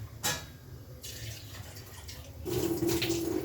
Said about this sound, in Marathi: थोडं अजून पाणी घालूयात